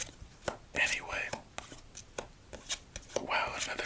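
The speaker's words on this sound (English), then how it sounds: "casino shuffle coming up" A Squeezers Cherry Limeade playing card deck being casino-shuffled and squared close up for solitaire, with soft rustles, taps and riffles, while someone whispers quietly over them.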